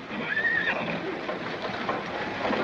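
A horse neighs at a corral, one loud close whinny rising early on, with faint hoof clatter and movement continuing after it and no voices.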